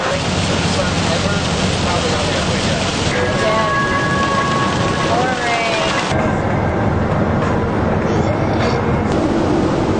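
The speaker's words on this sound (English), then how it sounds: "we are in a hailstorm. A little loud." Hail and heavy rain hammer the roof of a van parked outside during a storm in Tucson, a dense constant roar with wind gusting throughout, loud and close.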